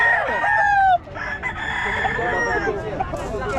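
Chickens and a rooster crowing at a market in Bocaue, with repeated loud crows and clucks close by and a busy background.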